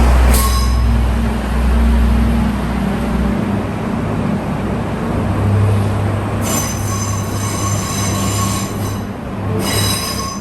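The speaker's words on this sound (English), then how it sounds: "As the train powers away, you can see why the vents for the exhaust are needed." The ageing Australind diesel train pulls away beneath exhaust vent structures with a steady low engine rumble, its wheels squealing in high, ringing tones over the roar.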